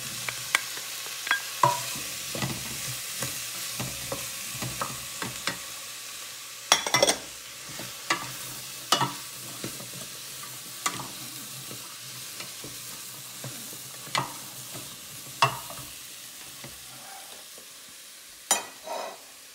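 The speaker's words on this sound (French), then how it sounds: "on a mis ça à feu moyen haut et en fait, l'objectif c'était de faire amollir l'oignon" Leeks, celery, onion, garlic and potatoes cook in a pot over medium-high heat, giving a steady low sizzle broken by occasional scrapes and clacks of a stirring utensil, with no voices.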